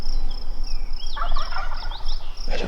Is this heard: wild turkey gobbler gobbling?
yes